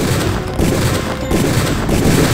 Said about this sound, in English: There we go, and now the shootout.